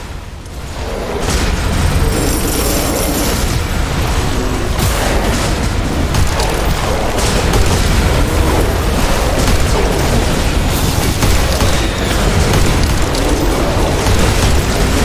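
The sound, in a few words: explosions of buildings being destroyed in The Riftbreaker video game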